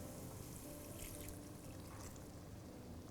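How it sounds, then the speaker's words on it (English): Water trickles and pours into a pot of chicken angara curry, a faint, steady liquid stream with light splashing and no talking. "At this stage, I'm going to add little water to adjust the consistency."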